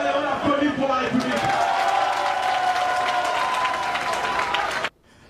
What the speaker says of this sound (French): Très bien, allez, on applaudit pour la République.